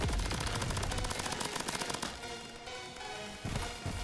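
Rapid automatic gunfire from the video game Crab Champions rattles continuously at close range, loud and dense throughout with a slight easing partway through.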